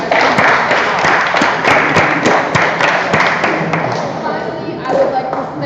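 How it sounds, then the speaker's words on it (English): An audience at a training session claps, a dense burst of applause with sharp thuds that slowly thins out toward the end, with speech mixed in. "give yourselves a round of applause for your participation"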